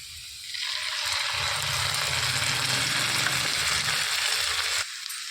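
Ground masala paste for an egg pepper roast hits a hot pan and bursts into a loud, close sizzle. The frying hiss holds steady for several seconds and then cuts off abruptly. No one talks.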